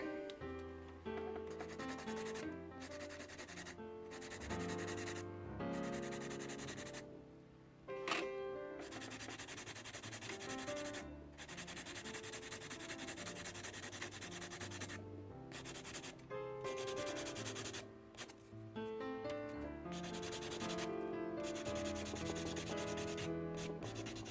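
Close, steady filing on an acrylic nail tip being blended down, a continuous scratchy rubbing with rhythmic strokes and brief pauses throughout.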